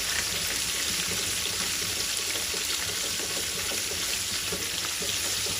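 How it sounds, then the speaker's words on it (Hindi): Chopped garlic sizzles gently in a pan over a medium flame, a steady, even crackle of frying that carries on without pause at a moderate level. "हल्का सा हम इसको फ्राई कर लेंगे लहसुन को।"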